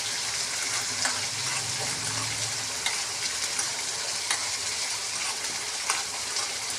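Tomato and onion for oats upma cook in a pan with a steady, close sizzle, with a few faint clinks over the simmering hiss and no talk.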